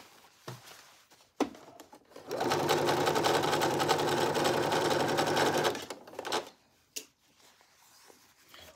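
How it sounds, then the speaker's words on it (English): A domestic sewing machine stitches the rest of a seam in one continuous whirring run of about three and a half seconds, framed by a few soft handling clicks before and after, close by and without speech. "And then stitch. Close the remaining part of the seam."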